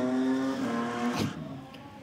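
A four-litre drag race car bounces off the rev limiter during a burnout at a drag strip, a loud sustained high engine note that wavers, then breaks into a sharp burst before fading.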